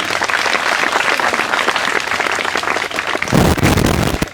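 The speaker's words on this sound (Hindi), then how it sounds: "जोरदार तालियां उनके लिए" An audience at an outdoor village event in Haryana claps loudly and continuously, a dense crackling roar of many hands that swells briefly near the end.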